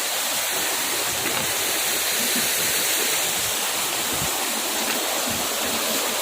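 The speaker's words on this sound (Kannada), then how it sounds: "ಅಲ್ಲಿಂದ ಸಣ್ಣ ಸಣ್ಣ ಜರಿಗಳಿಂದ ನೀರು ಬರ್ತಾ ಇರೋದು" Small streams of water rush and splash near Chikmagalur, filling the whole six seconds with a steady, close, broadband flowing roar and no voices.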